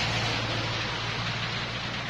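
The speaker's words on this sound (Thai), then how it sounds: "แต่พอดีว่าฝนตกค่ะวันนี้แถวบ้านนี่ฝนตกตั้งแต่เจ้าเลยเจ้า" Rain falls steadily near a home in the Mae Sai area during a fishing trip by the edge of a rice field, a dense, even hiss that continues without pause and with no voices.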